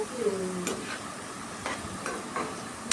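Potato pieces frying in oil for an aloo egg curry, a soft continuous sizzle with several sharp utensil clicks and stirring scrapes spaced through the stretch, fairly quiet and close.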